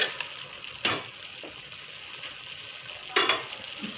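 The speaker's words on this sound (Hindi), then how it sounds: "पालक ऐड करके हमें इसे भूनना है।" Spinach frying with chana dal in a pan, a low continuous sizzle with a few louder stirring scrapes, close and without talking.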